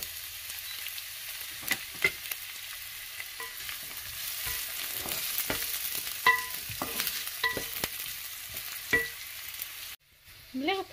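Falafel sizzles in hot oil in a pan at home, with steady low frying crackle, scattered stirring clicks and scrapes, and a brief quiet gap near the end before a few more clatters.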